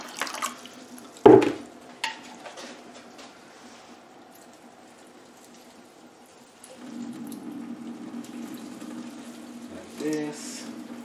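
Water runs through semi-hydroponic orchid pots to flush them, a soft steady trickle and splashing that grows stronger midway, after a sharp knock, with a quiet voice now and then.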